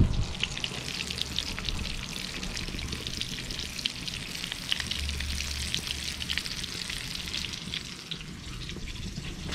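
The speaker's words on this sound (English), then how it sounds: "Let's cook the sausages a bit." Sausages frying in a pan for a Maltese breakfast, a steady crackling sizzle with bright spitting pops running throughout, no one talking.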